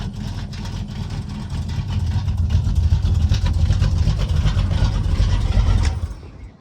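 An old truck engine with a worn exhaust manifold idles in a steady low rumble, swelling slightly louder midway before cutting off near the end.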